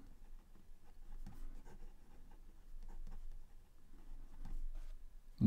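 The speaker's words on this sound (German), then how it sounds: "dann könnt ihr wie immer hören, wie die Feder hier übers Papier gleitet" A fountain pen with a medium nib, filled with Parker Quink Blue Black ink, glides over Clairefontaine DCP 160 g paper, giving faint, close, steady scratchy strokes with small pauses and no talking.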